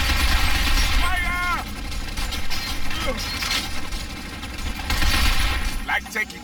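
Sustained gunfire from a firefight in the Binary Domain video game, dense bursts of shots and impacts with occasional electronic whines, loud and continuous across the scene.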